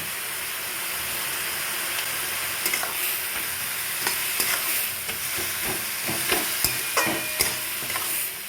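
Pointed gourd (parwal) sizzles as it is stirred and fried in a pan, a steady close hiss punctuated by repeated clicks and scrapes of the spatula that grow busier toward the end.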